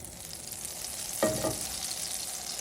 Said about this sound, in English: So this skillet is sizzling